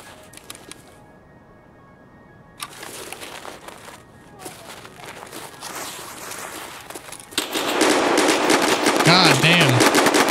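Gunfire in the video game Escape from Tarkov starts as scattered shots and footsteps, then grows into loud sustained automatic bursts near the end. Speech is heard faintly among the shots.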